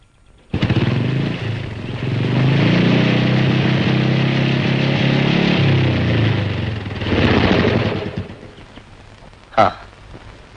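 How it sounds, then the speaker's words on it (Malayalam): A motorcycle engine starts up and idles loudly nearby with a steady low rumble, revving briefly before a sharp knock near the end. "ബൈക്കിന്റെ ശബ്ദം കേട്ടപ്പം"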